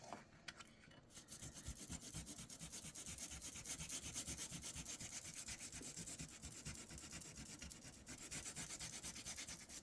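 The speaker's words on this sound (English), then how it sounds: "Love these little sanding pads." A small sanding pad rubs back and forth in quick, rhythmic strokes against a surface, close and continuous throughout.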